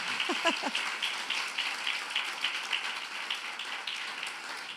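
A church congregation gives a round of applause during a Spanish-language sermon; a brief voice opens it, then a continuous patter of clapping carries on at moderate level.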